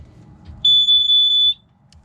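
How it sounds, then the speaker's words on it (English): A Watchdog battery water leak alarm in an RV gives one loud, piercing, high-pitched electronic beep lasting under a second, with only quiet room noise around it. "this is the watchdog water alarm"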